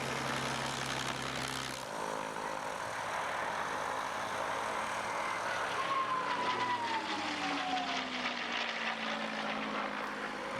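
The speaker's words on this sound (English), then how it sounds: "the throaty roar of the inline 12-cylinder Merlin Rolls-Royce supercharged engines" A propeller aircraft's supercharged Rolls-Royce Merlin inline 12-cylinder piston engine roars steadily and loudly as it passes overhead, its pitch sliding lower as it moves away.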